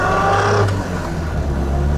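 A 1952 MG TD engine drones steadily while the car is driven, a continuous close, loud hum with a slight rise in pitch partway through.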